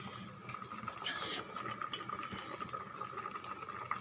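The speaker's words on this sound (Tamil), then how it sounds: "தண்ணி நல்லா கொதிக்க ஆரம்பிச்சிடுது." Water bubbling and simmering in a pot, with a brief clatter of metal utensils near the start and steady soft boiling throughout.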